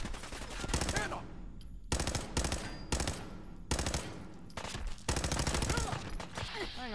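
Gunfire rattles in the video game Fallout 4: rapid automatic bursts, loud and close, separated by brief gaps, with voices faintly mixed in.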